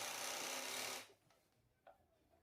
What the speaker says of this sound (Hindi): अब मैं गुणे को जमाने के लिए इस प्रकार सिलाई लगाऊंगी